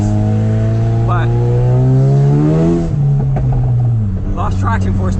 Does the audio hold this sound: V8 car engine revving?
yes